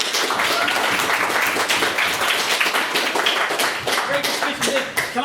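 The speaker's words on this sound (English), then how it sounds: "so another round of applause!" Audience applause after a debate speech on whether Trump will destroy the planet, dense steady clapping from a room full of people sustained for about five seconds at a loud, even level.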